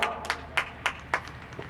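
Sparse hand clapping at a cricket match as a hundred runs come up, about six crisp claps at an uneven pace, faint and somewhat distant.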